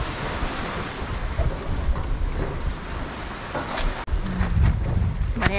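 Rough sea waves and gusting wind roar during a storm, a dense, continuous wash of surf and wind noise buffeting the microphone, with no talk.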